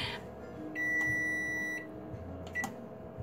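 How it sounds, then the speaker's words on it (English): A kitchen timer beeps while a pumpkin pie crunch bakes in the oven: one long, steady electronic tone, then a short second beep, heard clearly above a faint room hum with no talking. "the timer's going to go off any second here"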